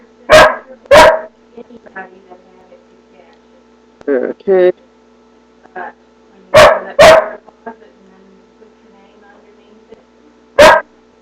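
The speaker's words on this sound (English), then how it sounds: "my dog barking" A dog barks loudly nearby in short pairs and single woofs, spread across the clip, with someone talking briefly between barks over a faint hum.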